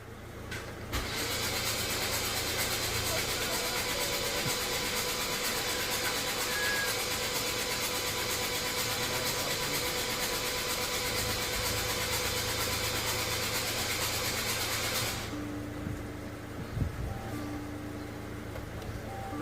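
A Hyundai Santa Fe engine turns over and settles into a steady, continuous idle with a constant low hum throughout, briefly changing tone near the end; no talking.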